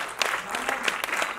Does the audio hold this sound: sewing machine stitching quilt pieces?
no